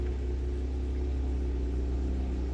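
A 2017 Jeep Wrangler Unlimited Rubicon with dual exhaust idles steadily on a cold start at slightly raised RPM, giving a low, throaty, even rumble that holds close and constant with no voices.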